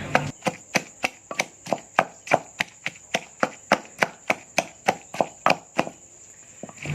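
Fish is pounded in a mortar with a pestle, producing about twenty sharp, evenly spaced thuds in a brisk steady rhythm, close and clear, ending abruptly.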